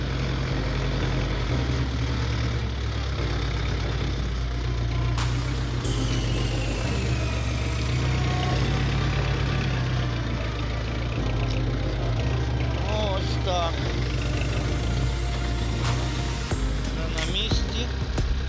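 A Lovol 354 mini tractor engine running while driving, a loud continuous low diesel drone with shifting pitch and occasional rattles, holding steady throughout.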